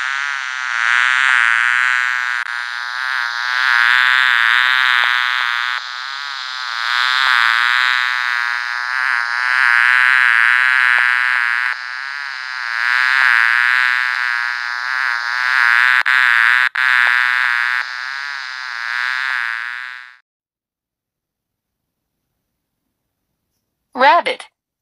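Continuous loud, close buzzing of a queen bee with a wavering pitch, lasting about twenty seconds before cutting off, followed by a brief final burst.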